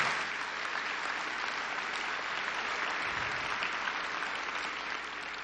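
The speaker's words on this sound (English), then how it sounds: "I want to thank Chief Perry, if you'll give him a big round of applause, for all of our police chiefs in Florida" An audience of police chiefs at an international chiefs of police association gathering applauds: even, continuous clapping from many hands that sounds somewhat distant and faint, with no speech over it.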